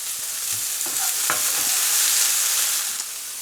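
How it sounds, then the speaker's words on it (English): Steak sears in a hot frying pan with a loud, steady hiss and crackle, broken by a few soft scraping clicks as the meat shifts; no one speaks. "we just want to get a nice bit of colour on that steak"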